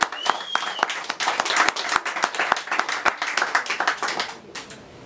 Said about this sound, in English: Would you mind giving him a round of applause?